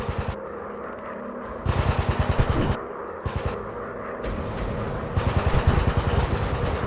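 Rear-mounted machine guns on a WW1 warplane firing in a VR air-combat game, rapid rattling bursts over a steady engine drone, with brief pauses between volleys.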